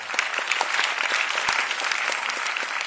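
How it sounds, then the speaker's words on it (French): An audience claps steadily after a film presentation, a dense, continuous wash of applause that stays even and fairly close throughout, with no voices rising above it. "Mais on l'applaudit aussi et on la remercie."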